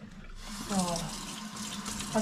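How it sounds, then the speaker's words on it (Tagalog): Tap water runs into a flower vase as its water is changed indoors, a steady close splashing stream with someone talking over it. "Palitan ko lang ito ng tubig kasi okay pa naman yung bulaklak."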